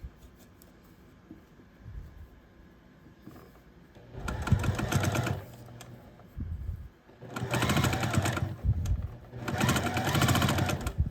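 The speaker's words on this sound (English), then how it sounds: "put one on top of the other and sew this together" Sewing machine stitching fabric pieces together for foundation paper piecing, running in three bursts of steady rapid whirring, the last two long, with quiet pauses and handling between.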